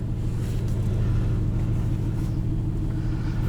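A 2020 Aston Martin DB11 V8 in Sport Plus mode gives a steady, close, low engine rumble from inside the cabin, even and unbroken throughout with no voices.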